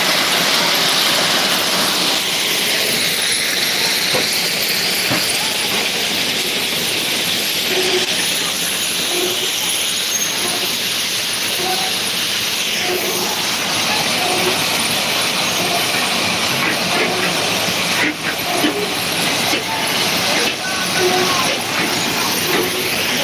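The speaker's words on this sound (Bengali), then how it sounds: "পাথর ফেলতে ফেলতে পুরো সেই ববি আনলোড গাড়ি সামনের দিকে এগোচ্ছে" A railway wagon rolls slowly forward while unloading stones near a rail gate on a line toward a bridge, giving a steady, loud, continuous rumble and hiss with faint squeaks and rattles throughout and no voices.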